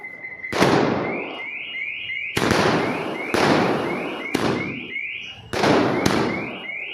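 Fireworks set off at a street celebration of an election victory in Rewari: five or six sharp, loud bangs, each followed by crackling and repeated rising whistles, close by and without talk.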